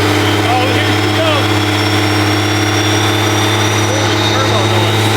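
Loud, constant engine drone of a pickup truck racing in first gear with a failing transmission, a whistling turbo spool riding high above the steady rumble, close and continuous.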